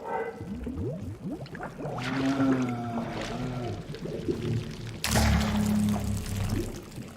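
After a valve turns in Bendy and the Ink Machine, ink pours and gurgles through pipes in a long, slowly rising flow with a louder surge near the end, alone and without talk.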